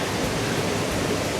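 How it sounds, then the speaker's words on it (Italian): Waterfall in Morocco, heard up close as a dense, steady roar of falling water that fills the entire clip without pause. "Questo ci sta portando sotto la cascata."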